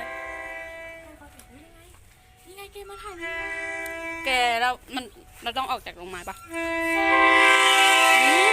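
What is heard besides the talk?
train arriving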